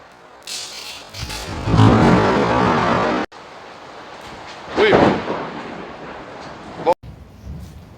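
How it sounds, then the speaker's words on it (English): During a severe storm that has flooded a workshop, thunder rolls outside in two loud, rumbling swells separated by quieter patches, with a person's voice heard in the gaps. "This storm is so bad, it has flooded our shop."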